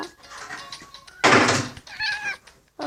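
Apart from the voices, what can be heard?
cat meowing in a video game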